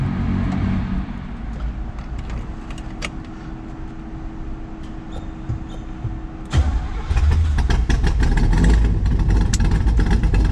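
A 1965 Chevrolet Corvette with an L79 327 V8 and side pipes cranks over, then fires into a loud, rough idle around six seconds in, the exhaust rumbling steadily up close with no talk.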